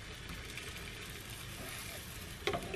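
Melted butter sizzles in a small Teflon frying pan, a steady close crackling hiss with a brief louder clink near the end.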